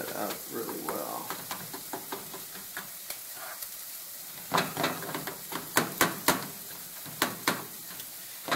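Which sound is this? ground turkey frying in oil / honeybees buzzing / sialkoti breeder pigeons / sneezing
ground turkey frying in oil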